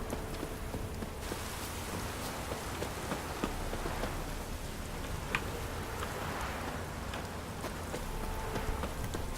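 Steady rain pours down in a town scene in The Witcher 3 video game, a dense continuous hiss of drops with occasional louder spatters, no voices.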